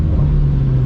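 Straight-piped BMW M4 F82 exhaust giving a brief, loud, deep rumble at close range, with no talk over it.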